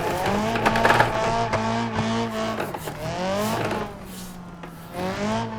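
A car drifts in BeamNG.drive driven with a G923 wheel, its engine droning with shifting pitch while the tires squeal loudly in long sweeping skids, rising and falling across repeated slides.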